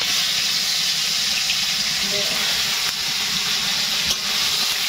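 Crab sizzles loudly and steadily in hot oil in a wok, a constant frying hiss with faint crackles throughout.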